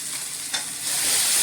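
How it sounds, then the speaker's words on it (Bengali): A spice masala with turmeric powder and salt fries in a pan, giving a dense, loud hiss of sizzling oil that swells toward the end, with a brief stirring scrape partway through. "সঙ্গে দিয়ে দিলাম এই যে অল্প হলুদের গুঁড়ো, লবণ দিয়ে মশলাটাকে আমি একটু ফ্রাই করে নিই।"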